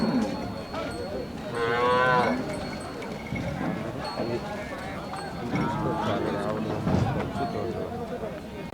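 Cows moo at a busy outdoor cattle market, with a long loud call near the start and another later, under constant crowd chatter and people talking close by.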